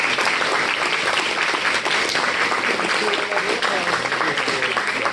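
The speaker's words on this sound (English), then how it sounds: "A round of applause for our experts." Dense, sustained applause from the audience at a live improv show, clapping for the experts, loud and even throughout with no break.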